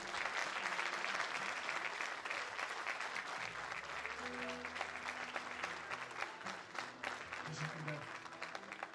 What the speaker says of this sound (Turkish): Alkışlarınızla Reşit İsmet.